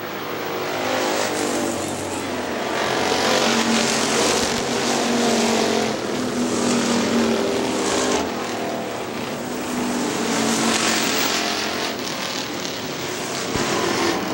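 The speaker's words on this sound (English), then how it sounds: "Mike Hoffman, 3-car battle, turn 2, Mark Lambrick up high." Factory stock cars race at Hartford Speedway Park, a loud continuous roar of several engines that swells and fades as the pack passes through the turns.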